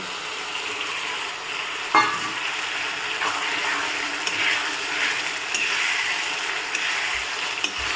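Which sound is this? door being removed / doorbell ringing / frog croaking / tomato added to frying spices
tomato added to frying spices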